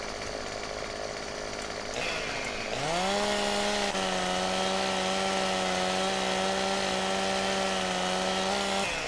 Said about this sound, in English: I think actually every chainsaw has got a different sound.